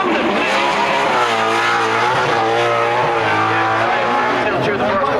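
A drift car tears around the Mondello Park circuit at a Japfest drifting event, its engine a loud, sustained, wavering roar with tire squeal, while a commentator talks over the sound throughout.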